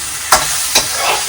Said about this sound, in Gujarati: મસ્ત તડકો લાગે છે મંચુરિયન નો વઘાર થાય છે